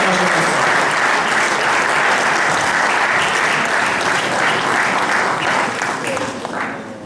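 Audience applause in a hall at a political party event, sustained dense clapping from a large crowd that tapers slightly toward the end.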